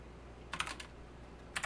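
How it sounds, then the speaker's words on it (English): Typing on a computer keyboard during a programming session: a quick cluster of close keystrokes, then a pause and another brief burst, over quiet room hum. "Oops, I'm typing in the wrong place here."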